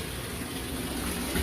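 Cold water tap running into a bathtub with bath salts, a steady close gushing hiss with no pauses over a brief moment.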